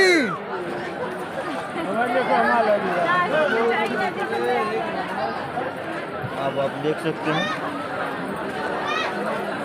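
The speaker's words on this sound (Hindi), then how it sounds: "बहुत भीड़ है।" A large, dense crowd chatters all around at Mumba Devi temple during Navratri, a steady babble of many overlapping voices close by, with a nearby speaker briefly talking over it.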